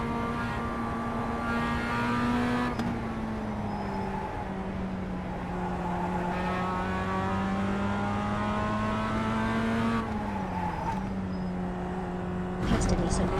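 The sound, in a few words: car engine driving to warm tyres, from a video game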